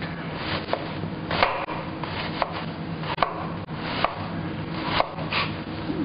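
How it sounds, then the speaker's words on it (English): A chopping knife finely dicing an onion on a board, with repeated crisp taps coming at an irregular pace, close up and clear, over a low background hum. "we'll just run our chopping knife straight down there, and what you can see now is that we're getting a really nice fine dice."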